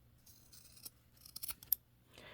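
Scissors snip through a folded fabric tab for a slouchy hobo bag, a few quiet rustles followed by several short, crisp cuts close by, with no talking.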